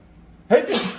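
A single sharp sneeze bursts out close by after a second of near quiet, in a garage during work on a 1970 Plymouth Satellite LS swap.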